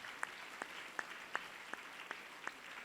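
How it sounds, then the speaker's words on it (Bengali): Audience claps for teachers at a school's annual exhibition and celebration. The clapping is faint and distant, with sharp claps in an even, steady rhythm over a quiet room hush. "সবার জন্য একটু জোরে হাততালি হোক"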